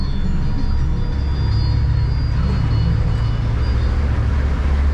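Twin Yamaha F150 outboard engines on a 2023 Stabicraft 2250 boat throttle up on the water, a loud, steady droning rumble with a low engine hum throughout.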